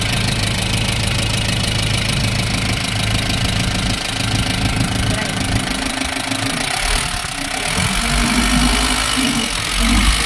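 A surplus Japanese truck engine idles loudly close by, a steady rough diesel rumble with a rhythmic knock that runs throughout.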